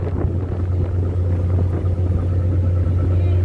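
Car engine rumbling steadily at close range as the vehicle is driven aboard a light ferry at Matnog port, a constant low drone with some wind noise and no talk.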